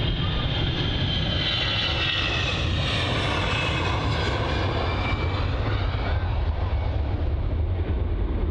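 A jet aircraft departs London Luton airport, its engine roar heard as a broad, steady rumble and hiss throughout, slowly swelling then easing as it moves off, with no one speaking.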